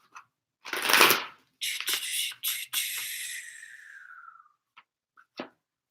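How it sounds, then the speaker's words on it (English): A deck of cards is shuffled in a few quick riffling bursts, the longest closing with a fading bridge-like flutter, then a few soft taps and card handling as the deck settles. Close and fairly loud, with no talk over it. "let me get one more shuffle in"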